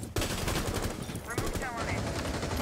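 Rapid bursts of gunfire in Rainbow Six Siege, loud and close, firing in quick rattling volleys with sharp cracks, a gap, then more shots, with faint game effects underneath.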